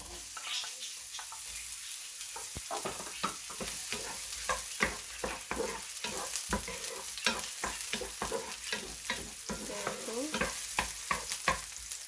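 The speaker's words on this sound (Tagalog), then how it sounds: "first thing I'm doing is that saute the onion" Onion sautés in hot oil in a pan with a soft, steady sizzle and frequent rhythmic scraping taps of a spoon stirring, close but fairly quiet.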